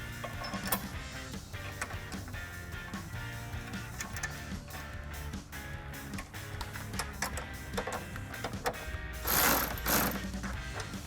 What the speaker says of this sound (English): we can come in with a 13mm wrench and a 13mm socket and loosely tighten these down